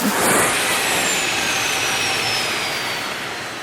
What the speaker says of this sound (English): your first flush on a cruise is going to scare the wits out of you